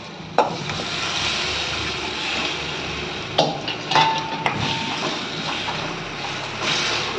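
A spatula mixes drumstick masala curry in a pan with its cooking water, giving a steady wet sizzle broken by a few sharp clinks and scrapes against the pan.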